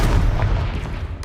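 A Confringo fire spell blast in Hogwarts Legacy, a heavy booming burst with rumbling low-end decay, loud and close, lasting just over a second.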